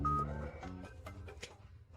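Phone dialing tones sound in a short sequence of steady electronic beeps, faint and close, with overlapping pitches.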